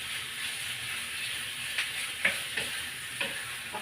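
Garlic and onion sauté with pork in a hot pan, a steady close sizzle with a few sharper stirring scrapes and pops, no voices.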